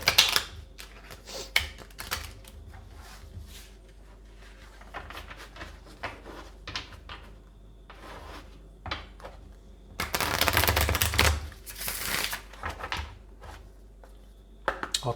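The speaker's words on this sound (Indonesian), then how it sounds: "Aku akan shuffle kartunya secara live." Tarot cards being shuffled by hand, with soft papery riffles and rustles in scattered bursts and a louder, denser flurry of shuffling near the end, close and fairly quiet.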